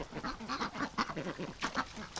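Several ducks near a bathtub quack in a steady, overlapping run of short calls, loud and close, with no voices.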